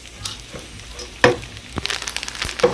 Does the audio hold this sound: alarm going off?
no